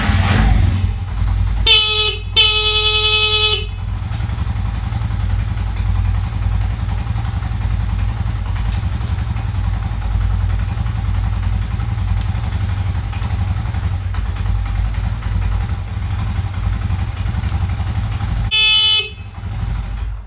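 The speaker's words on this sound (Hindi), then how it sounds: "इसका जो हॉर्न है बिल्कुल सीधे से काम कर रहा है" A Honda CD 70 motorcycle horn beeps in a few quick bursts over a steady idling engine, then sounds once more near the end.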